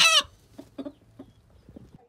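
A hen settling onto a nest of eggs in a village gives a sharp squawk, then a series of soft, scattered clucks at irregular intervals in a quiet space.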